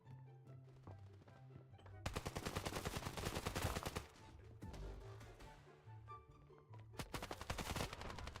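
Rapid bursts of automatic gunfire in the video game Standoff 2, loud and close, with short pauses between volleys and a tonal musical backing underneath.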